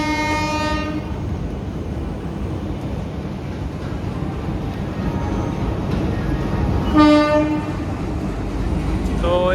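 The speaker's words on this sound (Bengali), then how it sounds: "তো এই ট্রেন ঢুকছে" Howrah–Rampurhat Shaheed Express with new LHB coaches rolls into the station, a steady rumble of wheels on rail with a loud horn blast at the start and a second horn burst near the end.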